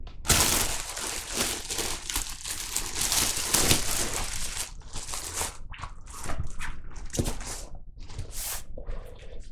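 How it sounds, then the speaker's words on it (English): Packaging of a Battlbox outdoor-gear subscription box being ripped open up close, a loud, continuous crinkling and tearing of paper and plastic that eases into scattered rustles and crunches. "All right, Aiden, rip it open."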